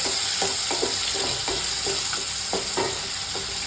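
Gooseberry chutney ingredients with turmeric powder and salt frying in a pan, giving a steady bright sizzle with repeated soft scraping stir strokes throughout.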